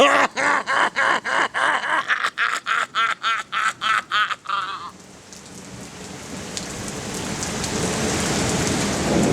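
Heavy rain from a violent thunderstorm in France hisses steadily across the second half, following a sequence of loud, evenly spaced pulsing sounds at the start.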